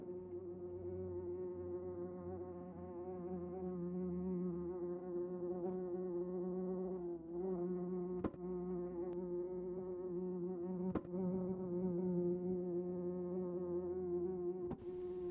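A wasp buzzing steadily and close, a continuous droning hum with slight pitch wobbles and a few brief clicks, persisting unbroken for the whole stretch with no talk.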